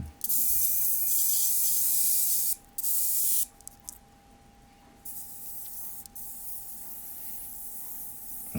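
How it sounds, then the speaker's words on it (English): A pressure water spray rinses the wheels and wheel arches of a Renault Megane Scenic during detailing, a loud close hiss in long bursts that gives way to quieter spraying toward the end. "just to rinse down, try and get rid of any excess wheel brightener that might still be around, and cleaning the wheel arches"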